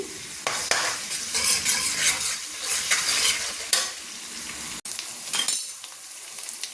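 Ginger garlic paste frying in a pan for egg fried rice, a steady close sizzle with repeated stirring scrapes and a sharp utensil clink partway through.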